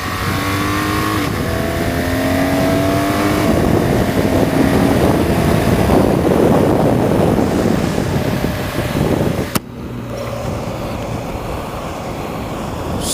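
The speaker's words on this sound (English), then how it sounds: "So you can get a little idea there for not only the power of the bike, but just how nice it is to shift around these corners." A 2016 BMW R1200 GS Adventure motorcycle accelerates hard through corners, its engine rising in pitch across several gear shifts under heavy wind rush. The engine drops off abruptly near the end as the wind noise continues.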